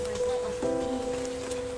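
Steady rain falls outdoors at a rural home in Kyrgyzstan, a continuous even patter with no break across the short stretch.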